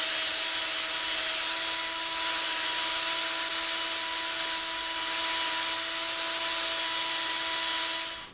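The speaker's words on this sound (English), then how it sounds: "I'm going to burnish these." A 1/4 inch cold roll steel rod burnishes a drilled wooden bore for a model organ crankshaft and connecting rods, making a loud, steady rubbing whir with a faint tonal hum that runs unbroken for about eight seconds before cutting off.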